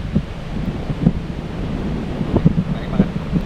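Surf and gusting wind on a west coast beach at Melasti, Krui, with low rumbling waves and buffeting wind noise on the microphone, plus faint soft bursts throughout.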